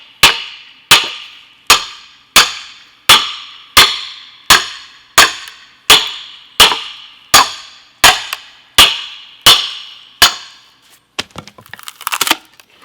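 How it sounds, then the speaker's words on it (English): Repeated heavy blows of a 4-pound sledgehammer splitting spruce for shakes, about fourteen sharp cracking strikes in a steady rhythm, close and loud, followed by a few scattered clattering knocks of wood pieces. "back to the 4-pound sledge, because it seems to do the best"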